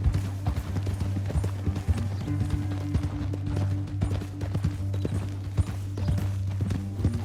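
Rhythmic clip-clop of galloping horse hooves at a quick pace in the video game Red Dead Redemption 2, over a steady low hum, with brief muffled voices now and then.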